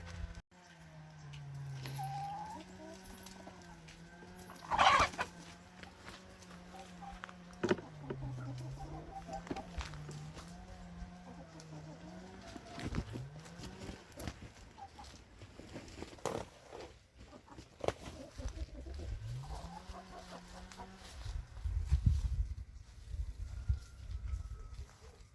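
Hens cluck and murmur in a homemade village chicken coop, a run of low pitched, wavering calls with a few sharper squawks, near and moderately loud, with light rustling and no talk.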